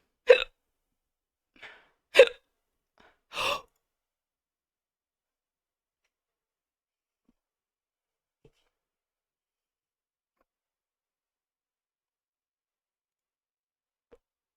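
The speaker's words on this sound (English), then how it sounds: "I have hiccups." Several sharp, isolated hiccups come in quick succession near the start, three or four short bursts, followed by long near-silence with faint ticks.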